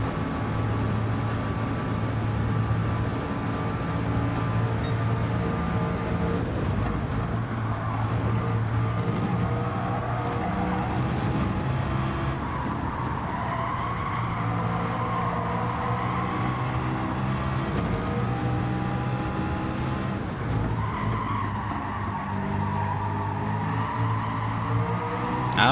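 A race car engine droning through qualifying at Watkins Glen in Gran Turismo 7, a steady mid-level roar with rising and falling pitch as gears shift, running continuously without talk.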